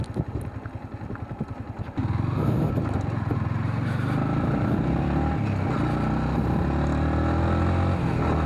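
A Yamaha MT-15 155 cc motorcycle rides at speed, its engine note pulsing at first and then settling into a loud, sustained drone with rising harmonic whine and wind rush.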